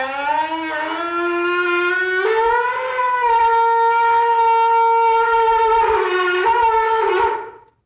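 A shofar blown at a church service, sounding as one long sustained wailing blast that steps up in pitch partway through, then swells and cuts off, with no talking over it.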